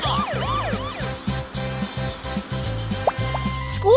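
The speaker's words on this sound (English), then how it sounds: "Police car." A video-game police car's wailing siren tones sweep up and down over a cheerful, bouncy synthetic tune, bright and electronic, with short chirping effects near the end.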